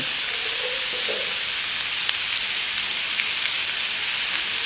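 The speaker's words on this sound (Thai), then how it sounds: "ผัดกับพริกครับผัดเนื้อปลาและพริก" Catfish and fresh chili stir-fry in a pan, giving a loud, even, unbroken sizzle with faint scraping and a brief low tone near the start.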